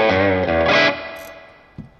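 A distorted electric guitar chord from a Cole Clark guitar with drive rings out loud and gritty at a NAMM 2024 booth, then decays, followed by a faint pick scrape near the end.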